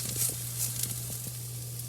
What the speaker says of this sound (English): You're going to let that sear on one side.